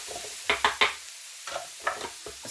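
Vegetables frying in a pan while being stirred, giving bursts of close sizzle and scraping in uneven clusters with short quiet gaps between them.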